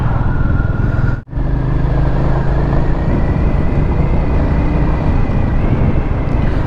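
A brand-new Royal Enfield Classic 350 in Signals Marsh Grey is ridden at an easy pace, its engine giving a steady, loud drone mixed with wind rush, with one brief dip near the start.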